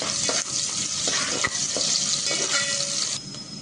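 Chopped onion sautés in hot oil for a Maharashtrian chicken rassa, giving a loud, continuous, close-up sizzle with occasional clinks of stirring. The hiss eases slightly near the end.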